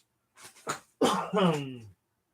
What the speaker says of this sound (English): if I'm coughing, it's because I'm still getting over this nasty cold